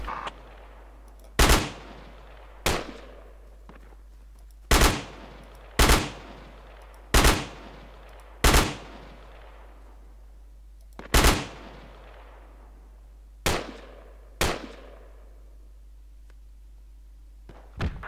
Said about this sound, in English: Just keep a low suppression fire so he doesn't pop back up.